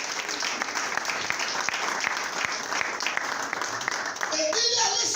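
A church congregation claps and cheers in steady, loud applause that fills the whole stretch, with voices mixed through it and a brief sung or shouted tone near the end.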